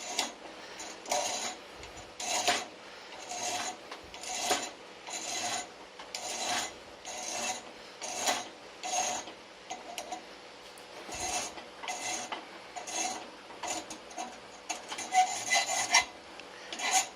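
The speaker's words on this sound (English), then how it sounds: "you're only supposed to go one direction with the file" A burr being filed off a part of a 1976 Honda Elsinore MR 250 motorcycle with a hand file: steady, evenly spaced rasping strokes in one direction, about a dozen, close and fairly quiet, no talk.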